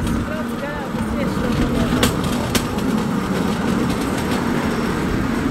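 A train rolls past on the rail line, a sustained rumble with wheel clicks and faint squeals, while people talk over it.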